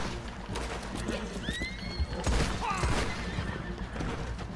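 A horse in the Red Dead Online video game neighs in two quick rising whinnies among scattered thuds and hoof clatter, moderately loud and close.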